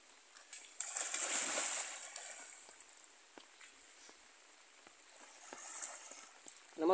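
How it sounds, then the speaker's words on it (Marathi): A sambar deer bathes in water, splashing and sloshing in bursts close by, with quieter dripping between the splashes. "हा माझा मित्र सांबार जातो प्राणी आहे हा पाण्यामध्ये आंघोळ अशी करतो बघा"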